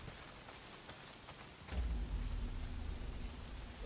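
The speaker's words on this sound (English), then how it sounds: "Well, not if it's pissing down rain." Heavy rain pours down in the video game Days Gone, starting as a light patter and then surging into a dense, loud downpour with a low rumble partway through, with no voices.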